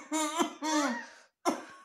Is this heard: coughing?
yes